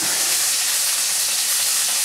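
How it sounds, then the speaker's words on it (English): Steady, loud sizzling of sausage frying in a pan, a dense continuous hiss with no voices. "I like to get that pork sausage fried, you know, really well"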